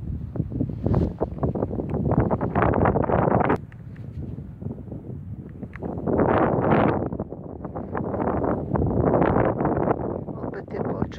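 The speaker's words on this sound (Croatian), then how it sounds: "Opet je počeo vjetar." Gusty wind batters the microphone outdoors during metal detecting, roaring in loud surges that rise and fall with brief lulls between them.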